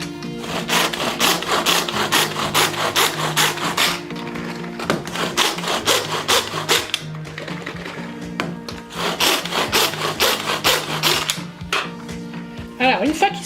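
Micro Pro Grill turbo-tube chopping halved mushrooms, a close rapid series of rough scraping, whirring pulls in repeated bursts with short pauses between them.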